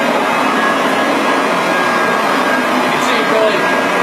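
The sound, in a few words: pile lifter vacuum cleaner with soft nylon brush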